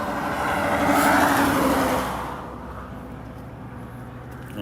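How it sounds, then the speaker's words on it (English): A motor vehicle roars past nearby on a road in Darwin, Australia, its loud rumbling hum swelling then fading over a few seconds, with a windy, rushing quality. "it could be a truck, or it could be a vehicle with a very loud wheel bearing"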